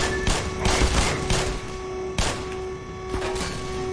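Enemies in the Black Mesa video game fire guns in quick bursts, sharp cracks and volleys coming near and loud in rapid succession, with no talking.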